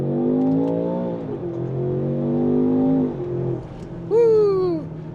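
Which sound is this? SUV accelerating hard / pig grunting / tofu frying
SUV accelerating hard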